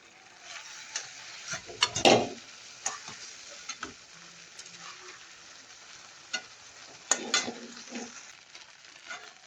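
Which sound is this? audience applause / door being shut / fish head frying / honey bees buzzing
fish head frying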